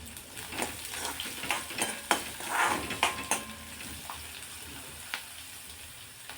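Finely chopped onion hitting a pan of already sautéed green chili and garlic in a home kitchen, sizzling softly with scattered scraping and stirring clinks from a spoon, moderately close and with no talking.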